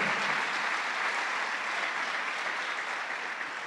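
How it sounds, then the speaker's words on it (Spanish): A church congregation applauds to the Lord during a sermon: a broad, even wash of many hands clapping, steady and sustained at moderate distance. "Dale un aplauso al Señor."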